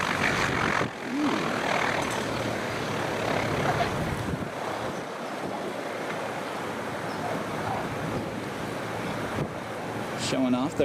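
A JetBlue Airbus A320 airliner comes in low over a crowded beach at Sint Maarten airport, a continuous broad jet roar blending with surf and wind, with faint crowd voices underneath.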